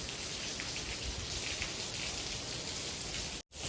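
Heavy typhoon rain pours down steadily in Spain, a dense, even hiss of drops striking surfaces without pause, briefly cut by a split-second dropout near the end.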